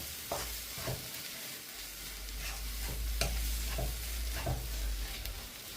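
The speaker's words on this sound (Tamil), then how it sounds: "முட்டையையும் இந்த காய்கறி எல்லாத்தையும் ஒன்றா சேர்த்து நல்லா மிக்ஸ் பண்ணி எடுத்துக்கொள்ளுறேன்" Eggs and vegetables are stirred together in a frying pan for noodles, giving a soft steady sizzle with repeated scraping strokes of the spoon against the pan.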